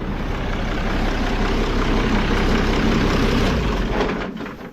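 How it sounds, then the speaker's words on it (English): An Allis-Chalmers tractor engine idles with a steady, loud low rumble close by, then winds down and fades as it is shut off near the end, with no talking. "let's go ahead and kill the tractor"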